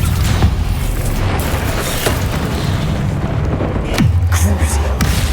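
Confringo and Bombarda explosion spells in the game Hogwarts Legacy, a dense run of loud booming blasts and rumbles with a sharp bang near the end, under a voice shouting the spell names during heavy combat.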